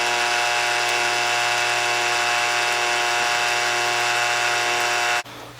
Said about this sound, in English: We've augered it all the way into the bottom